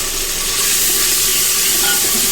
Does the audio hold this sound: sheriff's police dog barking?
no